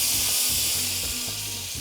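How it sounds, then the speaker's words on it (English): Refried beans with broth hit a pan of hot bacon fat, giving a loud, steady frying sizzle with a bright hiss throughout and faint low stirring knocks, no voices. "So I'm gonna get my beans with some broth, and you're gonna hear it right away fry once it hits that pan"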